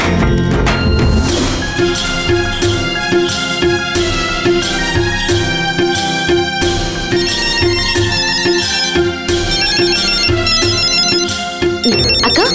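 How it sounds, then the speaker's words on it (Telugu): A melodic phone ringtone rings loud and close in a domestic scene from a Telugu TV serial, its bright repeating tune running continuously for about twelve seconds with no talking over it. "అక్క, చిన్నయ్యగారు ఫోన్ చేశారు."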